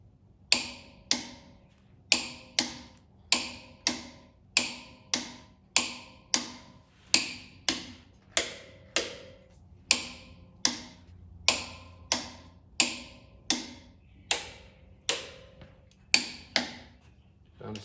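Torque wrench clicking over head bolts on a John Deere D17 tractor engine, around twenty sharp ratchet clicks in steady rhythm, close and clear, one after another with brief pauses.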